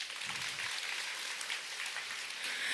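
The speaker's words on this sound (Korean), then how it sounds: "여기서 박수 한번 줄까요?" Applause from an audience at an Atomy marketing-plan seminar, steady and continuous throughout, moderately distant with no talk over it.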